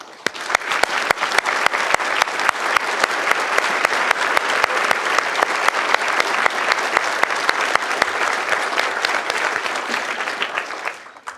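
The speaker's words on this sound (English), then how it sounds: "let's give everyone a round of applause." Banquet audience breaks into steady, dense applause that holds evenly for about ten seconds, then tapers off abruptly, with no talking over it.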